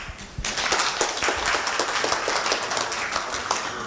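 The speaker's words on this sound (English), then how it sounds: "I think Duncan received the loudest round of applause because he mentioned lunch." Audience applause in a hall at a gathering before lunch, many hands clapping in a dense, steady patter that starts abruptly and carries on evenly at moderate volume.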